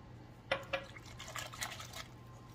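Water pours briefly into a mixing bowl holding oil and egg for waffle or baked oatmeal batter, a few quiet splashes and gurgles at close range, fading after a couple of seconds.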